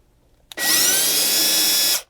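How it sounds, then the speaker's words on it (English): A power drill with a small 1/16 bit bores a pilot hole into a Tacoma armrest console lid: a single high, whining burst starting abruptly, holding steady for about a second and a half, then cutting off, close and loud. "I'll just go in all 4 of these holes and just drill a very small pilot hole"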